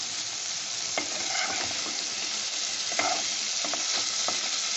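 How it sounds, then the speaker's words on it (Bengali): Cardamom, cinnamon, bay leaf, cashews and raisins fry in hot ghee in a kadai, giving a steady close sizzle with soft scrapes and taps as a spoon stirs them now and then. "আমি কড়াইতে ঘি দিয়ে আমি এলাচ, দারচিনি, তেজপাতা, কাজু কিশমিশটা দিয়ে দিলাম, দিয়ে হালকা একটু নেড়ে নিচ্ছি"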